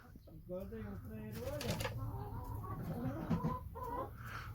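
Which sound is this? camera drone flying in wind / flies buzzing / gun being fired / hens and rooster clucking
hens and rooster clucking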